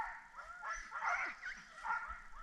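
A team of sled dogs barks and yips continuously outdoors, the noise fairly distant and moderately quiet, rising and falling in waves with whimpering cries mixed in.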